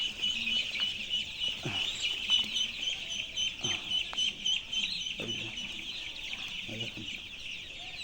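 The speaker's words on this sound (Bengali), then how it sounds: "চার পাঁচটা মিলে একটাকে অ্যাটাক করে ওই দেখেন ওই যে একটা মুরগি ছোট হচ্ছে" Chickens cluck and squawk in a flock as four or five gang up to attack one smaller hen, drawing blood; steady farmyard clucking with sharp bursts runs throughout under a constant high insect-like whine.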